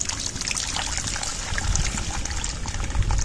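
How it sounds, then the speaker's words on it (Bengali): Water trickles and pours into a simmering fish curry with poppy seed, a close, continuous splashing stream that grows slightly heavier toward the end. "আর একটু জল দিয়ে দেবো, ঝোলে আর একটু জল লাগবে"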